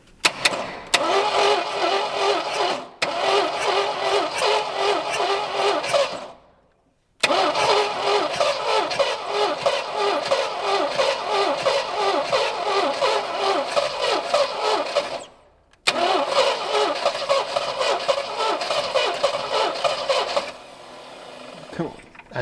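The engine of an AMC Rebel left abandoned for 35 years cranks loudly and rhythmically in three long attempts separated by short silences, each with a fast chugging starter beat and no catch.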